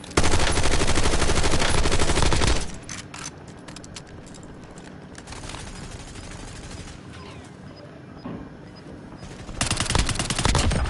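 Dense, loud automatic gunfire rattles for about two and a half seconds in a Call of Duty: Warzone match, then drops to scattered, quieter shots and battlefield noise before another loud burst near the end.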